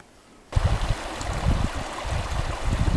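After a brief quiet start, a mountain stream in early spring suddenly rushes in, steady and full, its water churning and babbling close by.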